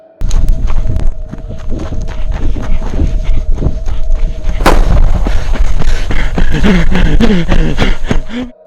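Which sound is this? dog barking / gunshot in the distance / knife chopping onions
gunshot in the distance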